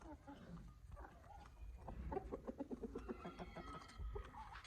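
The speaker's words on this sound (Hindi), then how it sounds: "आप लोग देख सकते हैं मेरे मुर्गे दाना खा रहे हैं" Aseel chickens cluck in a rapid, close series while pecking at grain outdoors, their calls rising in the middle and trailing off, with light background noise.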